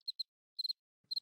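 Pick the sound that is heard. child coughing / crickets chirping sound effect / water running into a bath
crickets chirping sound effect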